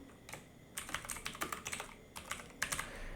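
Quiet clicking of a computer keyboard as a name is typed, short bursts of keystrokes with brief pauses between them, close and soft.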